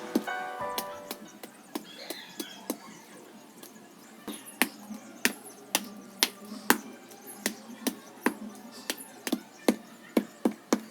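Dried cow dung cakes being crushed into powder by hand outdoors, a run of sharp, crisp crumbling cracks and snaps repeating irregularly and growing denser, with no talk.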